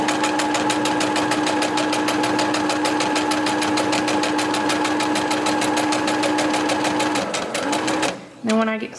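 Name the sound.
sewing machine sewing a DIY mask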